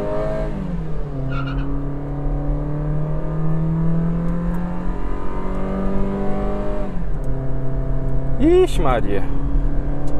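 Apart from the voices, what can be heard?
car accelerating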